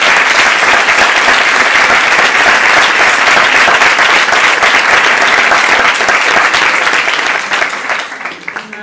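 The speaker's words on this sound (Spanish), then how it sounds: "pido un aplauso para las familias y todos los que están apoyando" Dense audience applause at a medical exam awards ceremony, loud and continuous from a large crowd before tapering off in the final second.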